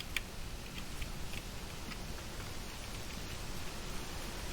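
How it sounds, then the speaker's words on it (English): Steady rain falls in the video game Vintage Story, an even wash of soft patter with faint ticks of drops, unbroken and fairly quiet throughout, with no voices. "Oh, is it raining?"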